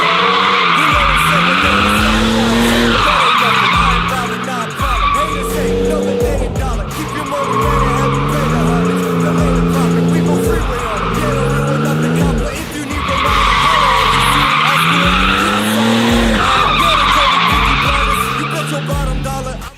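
A car skids through repeated handbrake turns, tires squealing in long wavering bursts over a revving engine, loud and close, with a voice talking over parts of it.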